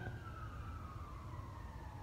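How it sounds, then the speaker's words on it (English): A siren wails from some distance, its tone sliding slowly downward over a low rumbling background. "Siren."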